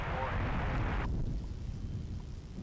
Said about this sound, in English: It's a Max 8. And that is turning onto the runway right now.